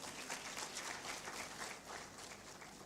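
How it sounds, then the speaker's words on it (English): An audience applauds a female economics professor at a women-in-sustainability gathering, steady sustained clapping from many hands filling the room at an even level throughout. "Can we clap for her?"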